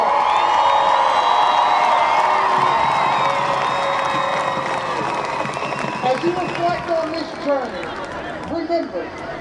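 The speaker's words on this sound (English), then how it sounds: "Let's give them a big round of applause." Stadium crowd at a 2011 OHSAA Division 2 high school football state championship cheering, with dense sustained roar and whoops that thin toward the end while scattered voices rise over it.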